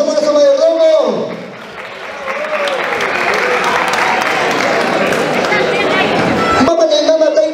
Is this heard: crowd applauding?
yes